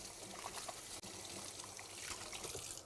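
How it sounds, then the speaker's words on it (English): Tap water running steadily into a sink while hands are washed in a kitchen, a constant close splashing flow with a brief break near the one-second mark, no voices. "Let's go and wash my hands."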